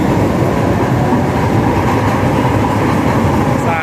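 LRT train passing at a station, a loud continuous rumble of wheels and carriages close by, dense and sustained for the whole stretch, with a brief squeal near the end.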